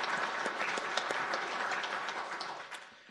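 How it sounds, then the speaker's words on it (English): Audience applause for sponsors during a city's State of the City presentation, a moderate, even patter of many hands clapping that tapers off at the close. "let's do a quick round of applause for all 5 of our sponsors."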